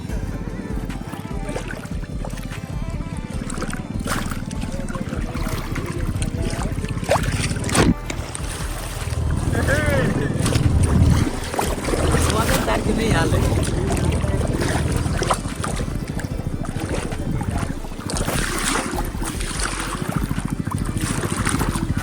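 A small boat rides on the sea near Jamki Navapur beach by Surat, with a continuous loud motor drone, water and wind buffeting the microphone, and people talking over it.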